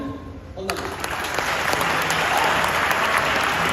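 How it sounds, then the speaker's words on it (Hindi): Audience applause at a motivational talk, with a brief voice at the start before dense clapping swells in and holds steady, loud and close, to the end. "एक बार जोरदार तालियां होनी चाहिए दोस्तों।"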